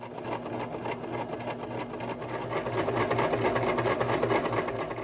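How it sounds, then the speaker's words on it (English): An electric sewing machine runs steadily and close up, stitching around three sides of a fabric pouch for a rice-filled hand warmer, with a continuous fast mechanical whir and rattle and no pauses. "I'm gonna stitch all the way around 3 complete sides"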